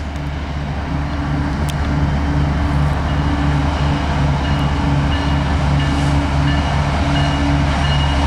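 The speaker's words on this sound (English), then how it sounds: "This is right at the 5th train of the day." A CSX freight train of ethanol tank cars rumbling past close by, steady heavy roar with rhythmic wheel clatter and low engine hum throughout.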